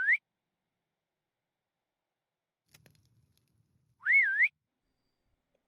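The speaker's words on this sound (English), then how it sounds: "it made me whistle like I was calling a dog" A short rising whistle and then a wavering whistled call, like calling a dog, come from a call luggage key in modded Minecraft, with a faint tap and near silence between them.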